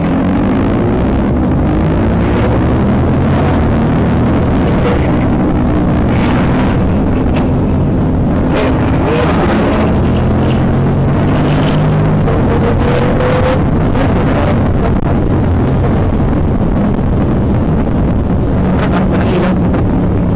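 Heavy wind buffets the microphone in a continuous roar during a motorcycle ride on the SLEX expressway, Philippines, with a low engine-like rumble underneath.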